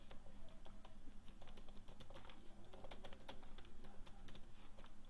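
Fast, steady clicking on a computer keyboard while PHP code is typed, a close, quiet, continuous patter of keystrokes with no talk.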